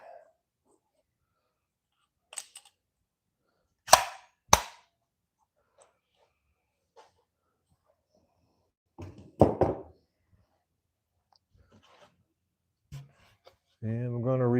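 Sharp pneumatic nail gun shots fire during a woodworking build, a few isolated loud cracks spaced seconds apart in an otherwise quiet room, with faint breathing and a short stretch of talk at the end.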